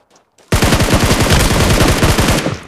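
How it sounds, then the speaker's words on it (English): Loud, sustained automatic gunfire in the PUBG Mobile video game, a continuous rapid burst of shots lasting about two seconds after a brief quiet start, with no talking. "Alright, they're shooting it"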